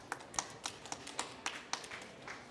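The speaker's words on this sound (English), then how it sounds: "A round of applause for David." Sparse, scattered clapping from a small conference panel audience at a COP29 side event on forest economies; individual claps are distinct and irregular, fairly quiet, with no voices.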